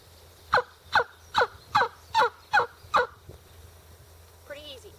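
A wingbone turkey call imitating a raspy hen gives seven sharp, evenly spaced yelps close by, followed by a softer, trailing note.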